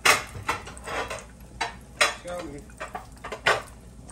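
Plates and dishes clink and clatter in a kitchen with sharp irregular knocks of crockery and cutlery, close by, while a voice briefly speaks.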